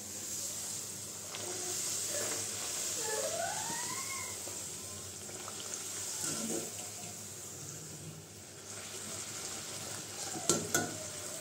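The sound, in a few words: luchi frying in hot oil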